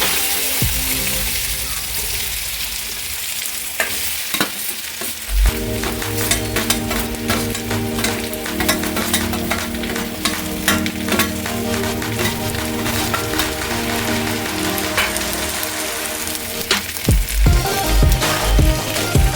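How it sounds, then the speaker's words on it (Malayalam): Jackfruit frying in ghee in a traditional uruli pot, heard as a steady close sizzle with stirring scrapes and clatter running through the whole stretch, heavier bumps near the end. "ഇനി നമ്മൾ ചക്ക അതിലോട്ട് നെയ്യിലോട്ട് തട്ടാൻ പോവുകയാണ്"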